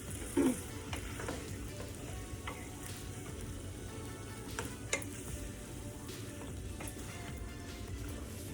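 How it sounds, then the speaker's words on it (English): Pork curry in a pan sizzles quietly after coconut milk goes in, a faint, even bubbling hiss with a few light ticks and one brief clatter near the start, no one speaking. "And then there I just added my coconut milk."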